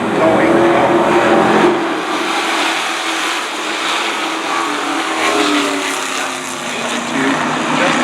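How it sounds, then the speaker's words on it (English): Twenty race cars rumble off turn 4 at Stafford Speedway during Kids Night, a loud, dense engine roar sustained throughout with slight swells as the pack passes, strong and close. "20 cars strong. They come rumbling off turn number 4."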